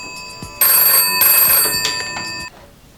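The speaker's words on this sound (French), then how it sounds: "c'est à ce moment que ce téléphone doit sonner" An old-style telephone bell rings loudly and close, one continuous ring of about two seconds with a bright, metallic tone, then it cuts off.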